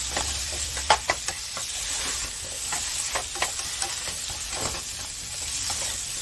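Turmeric and chili powder frying in an oil-filled pan, a steady close sizzle broken by several sharp clicks and scrapes of stirring, with no voices.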